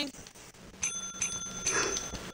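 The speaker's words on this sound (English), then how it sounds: "Let me ring the bell." A bell rings out a few times in the Roblox online game, its bright sustained tones sitting over busy game background noise.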